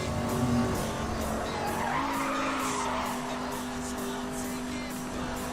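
A Jaguar sports car in the racing game Need For Speed Hot Pursuit, its engine note rising in pitch as the tires squeal and skid, loud and continuous with a voice briefly over it.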